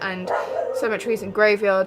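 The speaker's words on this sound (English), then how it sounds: "I'm really sorry for my dog, you can hear in the background." A pet dog yips and whimpers in short, high, rising bursts close by, overlapping and alternating with a person talking.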